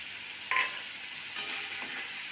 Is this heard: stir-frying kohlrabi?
yes